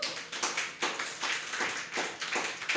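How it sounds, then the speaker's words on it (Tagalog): A church congregation claps in short irregular bursts, a quick patter of hands rising and falling several times, fairly close and without talk. "Dapat pumapalakpak kayo."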